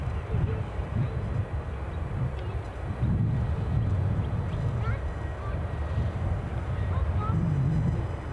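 EasyJet A320 airliner departing Edinburgh Airport, a continuous broad jet roar and rumble heard from a distance, steady and loud, with someone talking over it.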